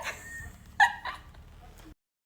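A dog indoors gives a couple of short, high yips and a thin whimper, close but moderate in level, ending in sudden silence.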